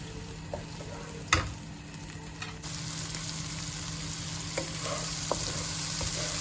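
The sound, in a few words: sautéing chili paste in a pan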